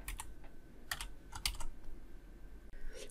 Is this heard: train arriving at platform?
no